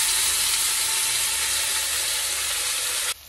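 Food sizzles and fries in a pan on a home stove with a loud, steady hiss that cuts off abruptly near the end when the flame is switched off.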